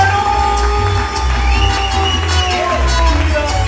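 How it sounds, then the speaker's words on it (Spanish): A crowd at a live worship concert in Puebla, Mexico cheers and claps loudly, with whoops and shouts rising over a steady roar and low music underneath. "Fuerte el aplauso a Cristo porque Él se lo merece."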